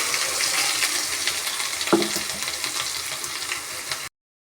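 Ground masala paste frying in a pan for egg curry, making a loud, continuous sizzle with one brief sharper spatter partway through before it cuts off abruptly.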